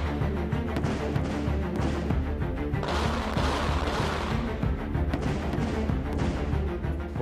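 Gunfire from a street shootout involving motorcycles crackles in a dense, continuous flurry of sharp reports, with a louder rushing burst midway, heard from some distance amid street noise.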